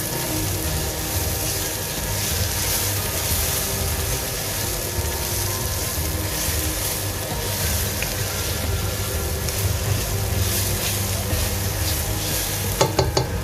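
Mutton curry sizzles steadily in a pan as masala powder is stirred in, a continuous close frying hiss with scraping stirs and a few sharper clicks at the end.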